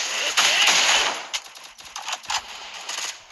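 Rapid automatic gunfire in the Free Fire battle royale video game, a loud dense burst followed by scattered sharp shots, with a player's voice talking over the action.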